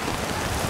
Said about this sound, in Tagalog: Yan, narinig naman yung ulan, di ba?